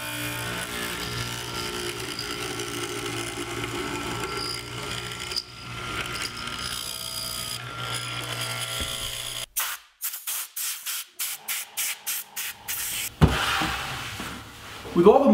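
A mortising machine cuts mortises in reclaimed lumber. A continuous motor drone gives way to a run of sharp, rhythmic bursts of cutting, close and loud, with a voice speaking over the early part.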